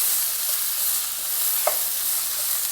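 Onions fry with masala in a pan and get stirred, a continuous close sizzling hiss with a single brief scrape of the spoon near the middle, no voices.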